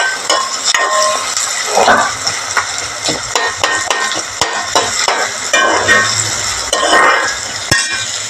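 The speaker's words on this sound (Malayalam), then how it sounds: "സവോള ഇട്ട് കൊടുക്കുന്നത് നന്നായി ഇളക്കി കൊടുക്കാം" Sliced onions for a fish curry are stirred in a frying pan, sizzling steadily while a utensil scrapes and clinks against the metal in repeated, irregular strokes, close and fairly loud with no talking.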